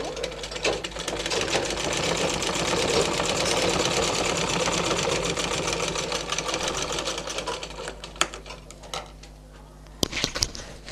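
A sewing machine runs steadily, double-stitching a blouse back-neck design trimmed with cord and tassels, its rapid needle clatter continuous for most of the time before slowing into a few separate knocks near the end.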